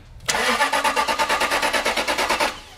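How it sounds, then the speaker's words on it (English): Land Rover LR engine cranks via the starter with a rapid, even chugging rhythm for about two seconds, loud and close, then stops without catching. "so you can essentially crank the engine while you're hitting the button"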